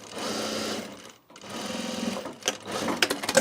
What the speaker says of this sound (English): Wax canvas is so easy to sew.